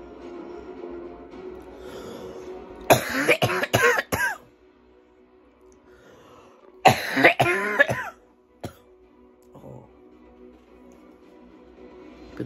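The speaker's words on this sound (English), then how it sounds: "I've still got the cough a bit" Two bursts of harsh coughing, each a quick cluster of several coughs, separated by quiet pauses, with a softer throat sound near the end.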